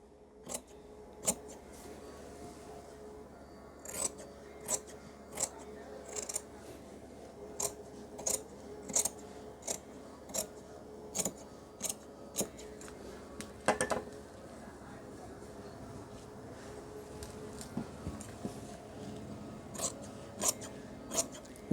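Scissors snip through a school-uniform chudithar top's back panel in a steady run of sharp, close cuts, with short pauses between strokes and a quiet room behind.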